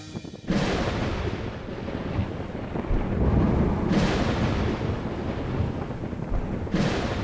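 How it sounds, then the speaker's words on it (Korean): Thunder rolls over a dry desert under a cloudless sky. Three loud cracks break out, each fading into a long rumble, with wind noise in between. "비구름 한 점 없는 마른 하늘에 가끔 천둥과 번개가 요란하게 술을 놓습니다."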